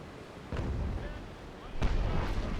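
Ship cannons in Naval Action Legends fire two deep, muffled booms about a second apart against a low sea-battle rumble.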